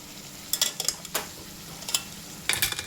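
Spiced vegetables stirred in a pan on a home kitchen stove, a spoon scraping and clinking against the metal in a few short bursts over a faint, steady sizzle.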